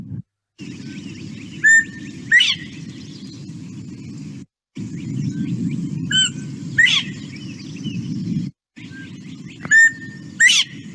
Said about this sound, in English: So classic Bob White song.